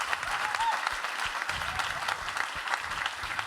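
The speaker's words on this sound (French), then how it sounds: "Oh, applaudissez Jade, là, je veux un tonnerre d'applaudissements." A small audience applauds Jade with steady, dense clapping that carries on evenly throughout, sounding somewhat distant and fairly quiet.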